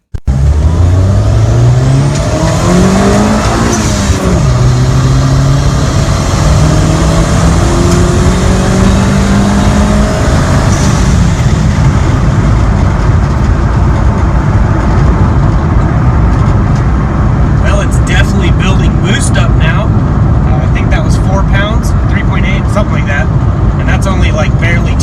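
Boosted car engine with 525cc injectors and a boost controller, roaring loudly and steadily through a long hard pull, its pitch climbing through the gears as road and wind noise build.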